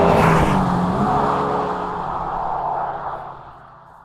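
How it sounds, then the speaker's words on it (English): Inside the cabin of a 2023 Honda Civic Type R in +R mode, an artificially piped-in engine note rumbles loudly, then fades and settles over about four seconds with no talking. "the piped-in engine sound in plus R mode is a bit much"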